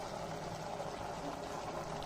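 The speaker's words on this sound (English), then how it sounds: "I'm just adding little bit of water" A little water poured into a jar to rinse out leftover spices while cooking a beef roast, a steady close splashing trickle lasting a couple of seconds.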